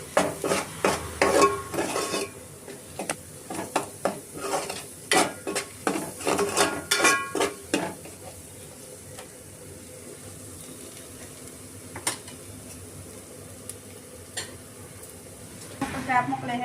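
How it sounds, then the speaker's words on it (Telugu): Chilli powder fries in a pan as a spatula scrapes and clinks against the metal in quick repeated strokes, then a quieter low sizzle carries on with occasional faint taps. "కారం పచ్చివాసన పోయే వరకు వేయించుకుందాం."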